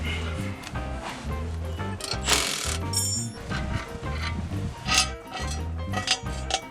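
A ratchet wrench loosening the shock absorber and axle damper mounts on the rear axle of an SN95 Ford Mustang, heard as close, rhythmic bursts of ratcheting clicks with brief pauses and metallic knocks.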